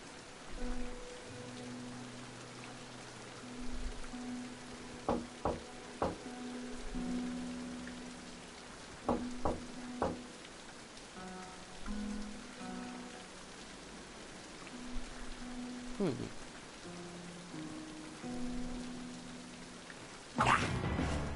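Rain falls steadily in the King's Quest video game, a soft, even hiss that runs under game music and scattered sharp effect sounds, with no talk.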